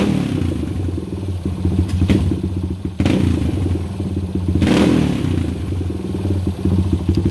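A custom motorcycle engine idles with a loud aftermarket exhaust, a steady rapid chugging pulse near the microphone, with a few sharp clunks and brief revs along the way.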